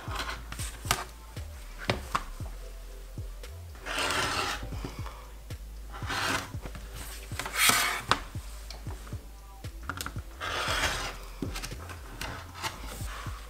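A cutter trims through a quilt block on a cutting surface: repeated rasping, scraping strokes in short bursts with taps and knocks between them, close and moderately quiet.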